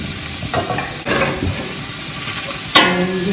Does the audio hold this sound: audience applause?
no